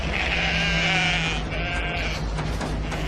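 Sheep bleat in a radio-style drama scene, several drawn-out, wavering calls overlapping one another, loud and close over a low steady hum, with no talking.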